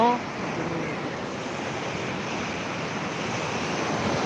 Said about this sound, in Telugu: పాండిచేరి రాక్ బీచ్ రాళ్ళు ఎక్కువగా ఉంది అందుకని రాక్ బీచ్ అంటున్నారేమో